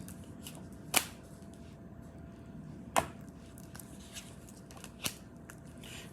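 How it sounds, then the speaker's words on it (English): A deck of tarot cards is cut by hand, giving three crisp slaps spaced about two seconds apart plus softer card rustles, close and quiet, no speech. "So I'm gonna cut the deck 3 times."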